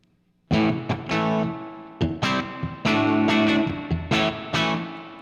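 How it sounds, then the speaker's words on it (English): Electric guitar notes and chords strummed through the spring reverb of a hand-wired Princeton amp, each attack trailing into a splashy, lingering wash; no voices. "As I turn the reverb up,"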